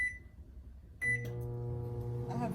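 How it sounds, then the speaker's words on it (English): Microwave oven running, a steady low electrical hum that steps up and stays constant once the oven starts, close and continuous with no talking. "in the microwave, it will take 30 minutes. So I'm going to put it for 4 more minutes."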